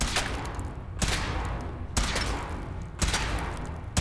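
Four heavy bursts of gunfire from a power armor weapon test aboard the Prydwen in Fallout 4, each roughly a second apart, loud and close with a rumbling wash between shots.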